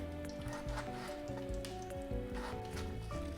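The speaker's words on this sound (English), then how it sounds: "the oil is ready for me. It is sizzling." Oil sizzles steadily in a pan, ready for onions, with a soft, even crackle under faint background music, and no voices.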